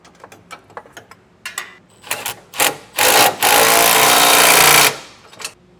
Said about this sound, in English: I'll tighten this all down with a 19mm socket and wrench